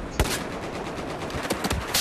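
Suppressed machine gun fire in Battlefield 4, heard as scattered muffled bursts and single cracks spread over a couple of seconds against a steady game-noise bed.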